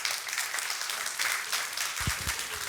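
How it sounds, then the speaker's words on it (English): Applause from a live audience for a panel at an international television-formats market event, a dense steady wash of many hands clapping at moderate distance, fairly soft, with a couple of low thumps near the end and no talk. "a big round of applause"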